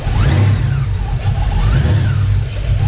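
A car engine fitted with a small Whipple supercharger revs up and down in a workshop, its pitch rising and falling over a rumbling idle along with a whining tone that sweeps with the revs, close and loud, with no voices.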